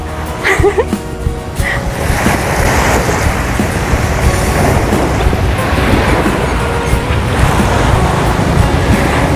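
Surf rolls in continuously at a quiet, sparsely visited seaside beach under a grey sky, a loud, steady wash of waves with a faint rumble of nearby road traffic mixed in.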